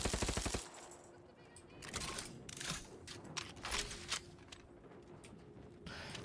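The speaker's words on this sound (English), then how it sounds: "This is a weird looking gun." An odd-looking gun fires in Outer Worlds 2, a quick rattling burst at the start followed by scattered mechanical clicks, whirs and short bursts at moderate volume.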